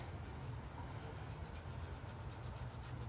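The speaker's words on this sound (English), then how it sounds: "So we're just gonna use a plastic scraper" A plastic scraper rubs steadily against the mating surface of a 2011 Chrysler 300C thermostat housing, clearing old gasket and corrosion in a faint, continuous rasping scrape with soft repeated strokes.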